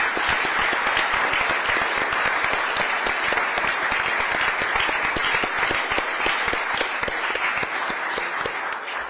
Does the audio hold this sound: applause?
yes